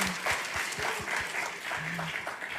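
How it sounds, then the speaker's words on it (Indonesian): A church audience applauds Kevin and Stevi with lively, dense clapping that holds steady, while a voice or two is faintly heard through the clapping. "kita beri tepuk tangan yang meriah."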